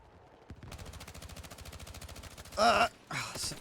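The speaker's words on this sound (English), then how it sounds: "Sniping with a submachine gun." Rapid submachine gun bursts in Battlefield 6, a sustained run of sharp, evenly spaced shots followed by two louder, brighter blasts near the end, with no talk over it.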